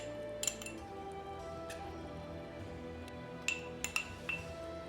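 Glass jars clink a few times as sliced pickled Jerusalem artichoke is packed into them, sharp bright taps scattered over a quiet room hum.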